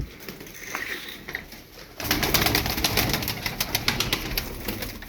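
Tumbler pigeons coo in a loft, the calls faint at first, then a louder, busier stretch of cooing and fluttering close by with steady background noise.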